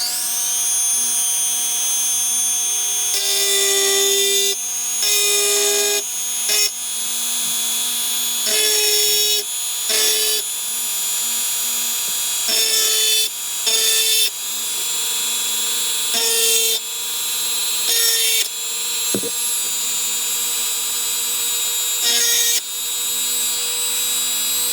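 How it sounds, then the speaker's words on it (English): A high-pitched whining rotary tool with a large round bit etches dichroic glass under water, grinding steadily, its tone rising and dipping as pressure changes in short repeated passes, loud and close throughout. "I've got my big round drill bit ready to go."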